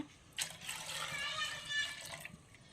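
Milk is poured into a pan in a home kitchen, a continuous close liquid stream lasting about two seconds with a bright, splashing filling sound.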